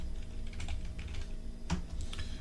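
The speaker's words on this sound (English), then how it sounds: "Open a browser and type in My CSUN software" Typing on a computer keyboard in a quick burst of close clicks and taps, with one sharper knock partway through.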